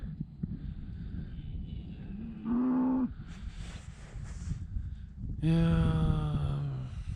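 Two long, deep moos from cows near a tent at a campsite in Spain, separated by a quiet stretch of wind rustle and outdoor background noise.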